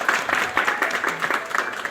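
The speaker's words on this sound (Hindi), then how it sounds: "तालियों के साथ सभी लोग" A crowd applauds at a school headmaster's retirement party, a dense, continuous patter of clapping filling the room.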